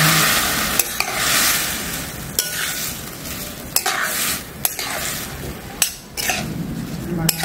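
Barnyard millet sizzles and crackles in a hot pan, with a spoon or spatula scraping and clinking against the metal every second or so.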